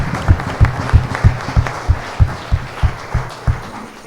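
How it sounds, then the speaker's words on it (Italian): Audience at a lecture series on Venezia's historic buildings applauds the students, close, loud clapping that settles into a rhythmic, nearly unison beat of regular claps over a softer crowd background. "a loro farei un bel applauso"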